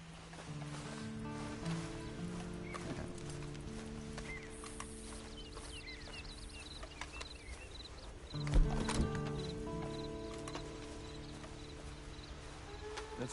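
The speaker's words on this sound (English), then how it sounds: "And you better get on this horse." Horse hooves clip-clop in the Red Dead Redemption video game, with a brief louder burst partway through that may be a whinny, over soft game ambience and no talk.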